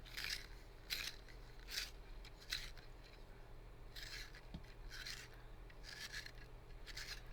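Staedtler Mars Lumograph wooden pencil being twisted in a handheld sharpener, rhythmic raspy scraping strokes of the blade shaving wood, repeated about a dozen times, close and quiet with no talk.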